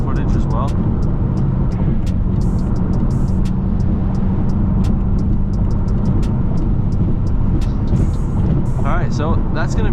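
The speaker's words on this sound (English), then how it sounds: "It's a nice little POV night drive for you guys." Steady low engine and road drone from a BMW M6 driving at night, heard from inside the car as a constant near rumble with faint ticks and clicks above it and no talk.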